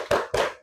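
A group in a classroom claps together twice in quick succession, two crisp, close unison claps during a focus-chant routine.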